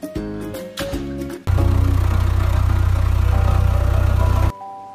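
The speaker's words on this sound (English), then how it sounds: "Road roller." Road roller engine idling with a loud, steady low throb for about three seconds, preceded by brief choppy mechanical tones, then ending abruptly.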